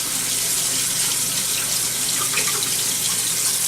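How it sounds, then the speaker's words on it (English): Cold tap water runs steadily over freshly cooked, strained rice in a kitchen sink, a continuous close splashing rush with no talk. "So I run cold water over it."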